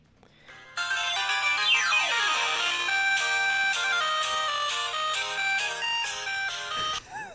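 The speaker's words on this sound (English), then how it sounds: "That's my ringtone." A phone ringtone starts after a brief quiet moment and plays a loud, bright electronic melody of repeating notes for about six seconds, then cuts off abruptly.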